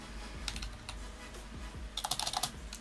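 Typing on a Genius membrane computer keyboard, a few scattered key presses followed by a quick burst of soft clacks, quiet and close with no talking.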